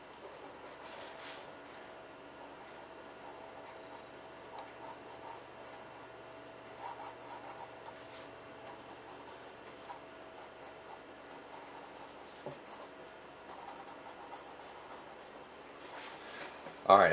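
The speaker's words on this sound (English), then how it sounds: "Now I'm just drawing it all with the number 2 pencil" A number 2 pencil sketches on paper in soft, continuous scratchy rubbing strokes with small pauses, quiet and close.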